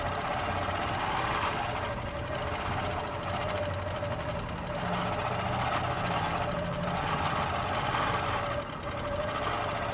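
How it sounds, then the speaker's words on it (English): A sewing machine stitches free motion quilting loops with a steady, fast mechanical whir and needle chatter, close and continuous for the whole stretch, with no voices. "So we'll turn the machine on and stitch our loops."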